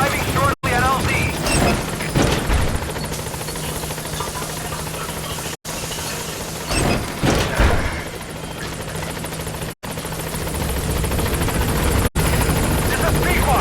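A helicopter in the video game Metal Gear Solid drones steadily as it approaches a landing zone, a continuous loud rotor hum running under radio voices throughout.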